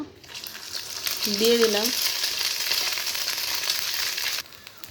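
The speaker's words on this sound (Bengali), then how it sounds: "বেশি তেল দিব না, ওই তেলে কিন্তু ভেজে নেব।" Egg balls frying in a little oil over low heat, a steady close sizzle running throughout, with a brief spoken phrase near the start.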